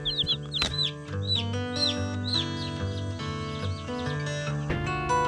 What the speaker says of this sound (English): What you think about them chickens?